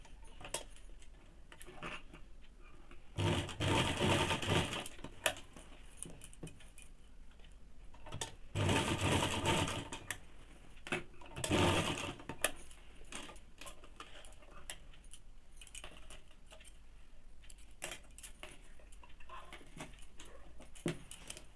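A sewing machine runs in several bursts, double-stitching a men's underwear seam with a drawstring inside, its rapid needle ticking interrupted by pauses with light clicks and fabric handling between runs.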